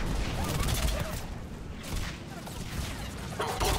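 A new machine gun in Mass Effect 3 fires rapid, continuous bursts that crackle and thump up close, with battle noise layered over the firing.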